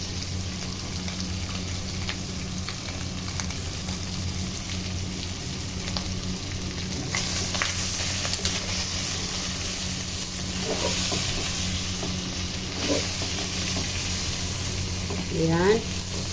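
Chicken cubes fry in a hot pan with a constant, loud sizzle that swells slightly midway, while a voice speaks occasionally over it.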